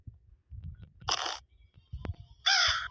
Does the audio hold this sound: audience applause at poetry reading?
no